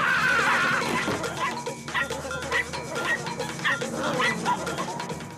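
Cartoon chihuahuas yip and bark in rapid, loud overlapping bursts, a frantic little pack filling the whole stretch with high-pitched noise.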